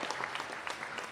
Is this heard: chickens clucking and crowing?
no